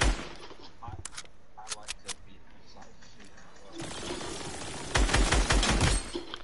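Gunfire in a video game during a one-on-one match: sharp bursts of rapid shots at the start, then a louder sustained volley of automatic fire near the end, with quieter game noise between.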